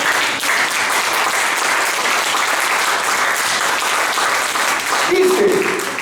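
A church congregation applauds in a sustained, even roar of many hands clapping together that lasts around six seconds, with a brief voice rising near the end.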